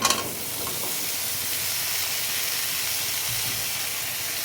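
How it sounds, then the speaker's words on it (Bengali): Chilies frying in hot fish oil in a pan, a steady bright sizzle and hiss that holds evenly throughout after a brief initial crackle, close and alone. "লঙ্কাটাকে প্রথমে ভেজে নিতে হবে ভালো করে, মাছের তেলের জন্য খুব সুন্দর গন্ধ বেরিয়েছে।"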